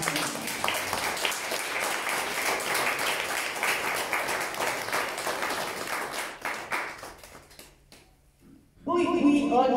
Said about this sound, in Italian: un grande applauso lo voglio per i familiari